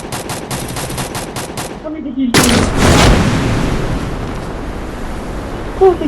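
Rapid automatic gunfire in the mobile battle royale game Free Fire, an evenly spaced string of shots over the first two seconds, then a heavy blast with a lingering rumble and a voice speaking near the end.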